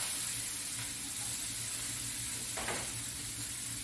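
Chopped onions and peppers sizzle in a hot pan for a Denver omelet, a steady close hiss broken by a faint stirring scrape, with no talking.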